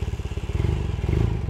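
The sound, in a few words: 1978 Honda CB400A Hondamatic motorcycle engine starting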